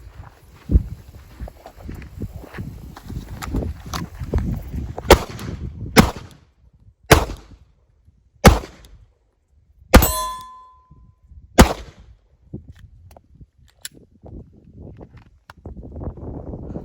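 Handgun shots ring off a steel target during draw-stroke practice, about seven sharp cracks with metallic clangs spaced one to two seconds apart, mixed with shuffling and handling noise between shots.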